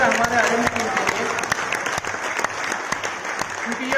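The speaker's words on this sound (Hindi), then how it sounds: "तो एक बार जोरदार तालियां हमारे R&D टीम के लिए" Loud, vigorous applause from an audience at a company event celebrating its R&D team, with many sharp overlapping claps and a few voices and tones underneath.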